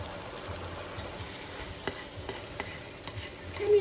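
Chicken breast stir-fries with leeks in a pan, a steady soft sizzle broken by scraping and clinking stirring strokes, heard close.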